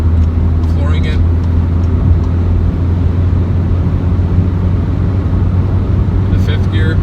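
A Škoda Karoq 2.0 TDI 4x4 in sport mode pulling hard at full throttle in fifth gear, a steady loud engine drone inside the cabin with brief talk at the start and end.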